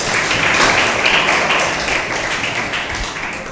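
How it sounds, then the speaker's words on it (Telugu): Students at Valmiki Avasa Seva Bharathi School applaud during a speech, a dense sustained clapping close by that slowly tapers off. "వెరీ గుడ్, చప్పట్లు కొట్టండి"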